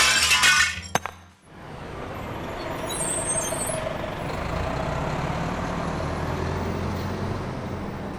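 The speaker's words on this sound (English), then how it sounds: "Throw cinder block at window, thereby discovering it is fake" A cinder block hurled through a glass window lands with a sharp, loud shatter and tinkle of breaking glass in the first second, followed by a steady low rumble.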